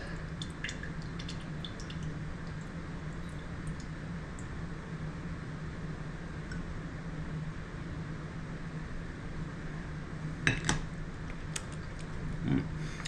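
Olive oil and juice from canned sardines are poured into a glass for a Bloody Mary, heard as soft drips and a few small liquid splashes near the end over a steady background hiss.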